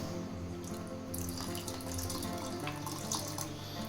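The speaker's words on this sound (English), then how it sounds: "Add a little bit of water." Water pours steadily from a tap into a vessel nearby, a continuous splashing trickle with no voices.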